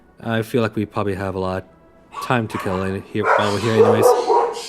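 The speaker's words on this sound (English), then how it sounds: "That was just my dog." A pet dog barks and yips indoors in short, loud, close bursts, a few barks at a time with pauses between, and a person talks over the later barking.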